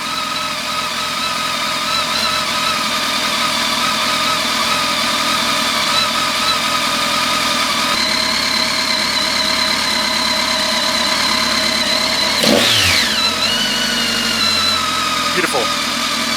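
A repaired BMW K1300S motorcycle engine idles smoothly and steadily close by, an even mechanical hum with a brief spoken remark and a short clatter near the end.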